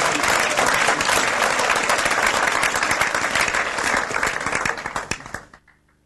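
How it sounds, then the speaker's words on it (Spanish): A church congregation breaks into loud, crisp applause during a morning service, many hands clapping steadily before the sound thins out and fades to quiet near the end. "Denle un aplauso a Jesucristo, hermano, en esta mañana."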